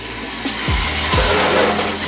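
Toy RC drift car making a high-speed entry, a whining electric motor rising in pitch with quick sweeping passes and sharp spikes, close and loud.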